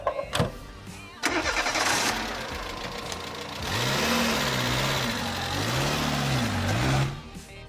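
A Peugeot 205 Cabriolet with a 60-horsepower 1.8-litre diesel engine starts after a few cranking bursts, then idles with a clattering rumble and revs up and down in several rising and falling swells before cutting off.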